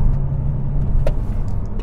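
Opel Grandland PHEV hybrid SUV with its 1.6-litre petrol engine running, a steady low drone heard close and fairly loud throughout, with no talk over it.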